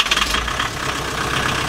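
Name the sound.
rebuilt diesel car engine idling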